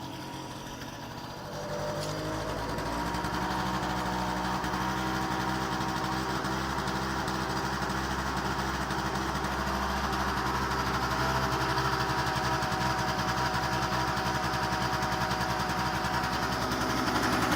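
A car engine cranks and catches in freezing cold around -7°C, then settles into a steady idle that holds evenly and fairly close for the rest of the stretch, no voices over it.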